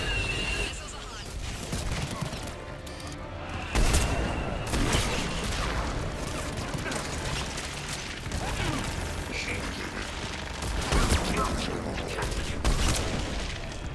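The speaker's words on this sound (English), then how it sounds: "Missiles are hot." Missile launches and explosions in a Mass Effect 3 battle: repeated booming blasts and rattling gunfire over dense, continuous combat noise, with sharper bursts at several points.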